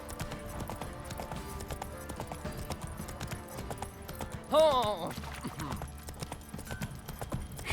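Horse hooves clip-clop steadily in The Witcher 3, a continuous rhythmic trotting under game ambience, with a brief whinny-like rise midway and a person speaking a word over it.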